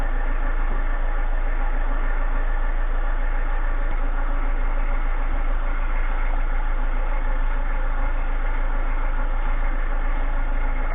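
Steady, continuous engine idle from a stage 3 remapped Audi A3 after a jump-start with clamps, a constant low hum with even loudness throughout and no voices.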